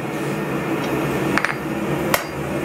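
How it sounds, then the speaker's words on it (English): Two or three sharp metallic strikes ring out as a forged steel shelf bracket is hammered flat, standing just above a loud, steady roar of workshop noise. "Let's hammer it right here."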